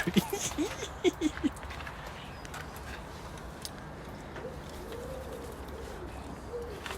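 A pigeon or dove calls outdoors with a few short cooing notes near the start, then a softer background with distant murmurs and light noise.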